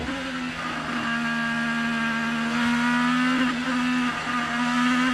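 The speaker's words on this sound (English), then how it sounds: "You can hear the throttle application." An IndyCar race car engine under throttle on the Detroit street circuit gives a steady, loud, high-pitched drone that holds continuously with slight surges in pitch.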